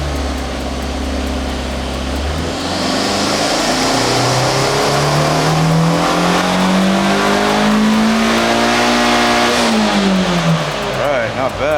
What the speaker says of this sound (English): then we're going to make some pulls on the dyno